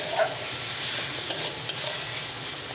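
Spice paste and tomato sauté in a pan over low heat, giving a close, steady sizzle with scraping stirs and a few light knocks, and no voices.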